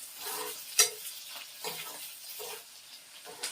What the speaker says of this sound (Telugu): నెక్స్ట్ వచ్చేసి పచ్చిమిరపకాయలను కూడా బాగా కలిపేసుకుందాం